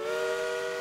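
A steady, sustained train whistle, loud and tonal, holding one note throughout without a break.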